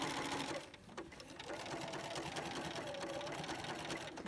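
A sewing machine stitches an orange peel applique border, its needle running in a fast steady buzzing rhythm, close and continuous after a brief pause near the start, under a quiet voice.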